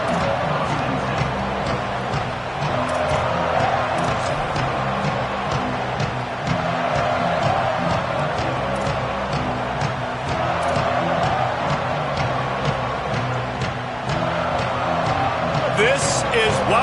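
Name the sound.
football stadium crowd noise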